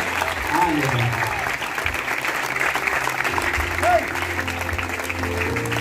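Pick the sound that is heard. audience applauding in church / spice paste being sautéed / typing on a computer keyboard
audience applauding in church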